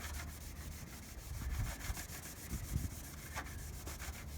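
A terry cloth towel rubs paint cleaner over car paint, giving rapid, repeated soft scrubbing strokes at close range, with no talking.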